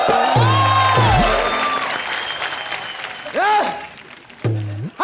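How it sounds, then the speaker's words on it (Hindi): Studio audience applause on the comedy show Comedy Nights Bachao rises under loud, tonal music stings and swooshing effects, the crowd's clapping mostly buried beneath the show's jingle. "जोरदार तालियां, कॉमेडी नाइट बचाओ।"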